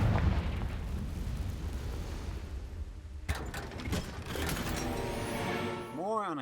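A Confringo blasting spell goes off in Hogwarts Legacy with one sudden, loud explosive burst midway through, followed by rumbling debris and busy game effects.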